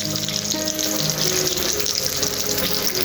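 Water runs steadily into a pot of khichuri on the stove, a continuous splashing pour with a faint sizzle beneath, close and fairly loud throughout.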